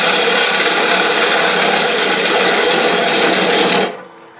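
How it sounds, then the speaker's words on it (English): A bowl gouge push-cuts into a dogwood bowl spinning on a wood lathe, giving a loud, steady rough roar of motor and cutting that stops abruptly near the end, leaving a faint hum. "now I flatten this in so I can come in there and do a push cut without it bouncing"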